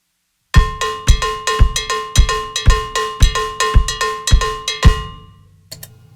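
Straight Mozambique cowbell bell pattern on a drum kit, even bright bell hits with low kick thumps in a steady pulse, close and loud, ending with a short tail and a couple of soft taps.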